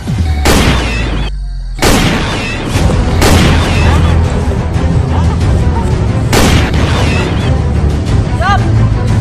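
Loud gunfire bursts in a Sundanese short film about soldiers, several sharp booming shots spaced apart with echoing tails, some voices heard between them.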